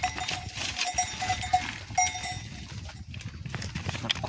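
A flock of sheep and goats moves along a village stream, with a few cowbells clinking and ringing irregularly over soft shuffling and faint animal noise, all fairly quiet.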